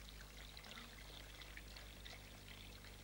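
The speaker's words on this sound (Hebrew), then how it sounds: "ולאט לאט אני אשפור את החלב בשוקולד" Hot milk, heated with a vanilla stick and sugar, is poured slowly into melted chocolate, giving a soft continuous trickling pour heard close and quiet, with no voices.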